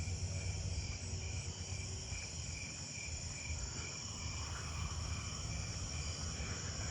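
At night, pine tree crickets keep up a constant high trill, soft and steady, layered with other insect song over a low distant rumble, with nobody speaking.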